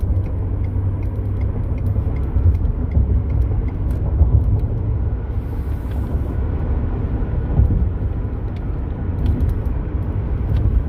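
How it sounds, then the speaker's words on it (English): 2018 Ford F150 4x4 EcoBoost pickup truck cruising at highway speed, a steady low rumble of road and tire noise filling the cabin, constant and fairly loud with no talking. "So at 65, it's substantially quieter. You get a little bit because of the tires, it's the nature of the beast"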